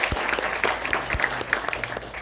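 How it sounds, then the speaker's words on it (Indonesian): An indoor audience at the Indonesia Stock Exchange claps in brief, dense applause, a steady patter of many hands close by. "Tepuk tangan dong."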